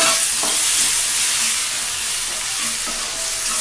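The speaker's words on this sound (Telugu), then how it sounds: "ఒకసారి కలియబెట్టండి." Green peas are stirred into Maggi masala in a hot pan, a steady loud sizzle with a few soft scraping strokes of the spoon.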